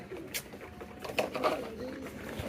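Pigeons coo softly in a bird market, including sick birds, with repeated low cooing calls over faint background noise and no one speaking.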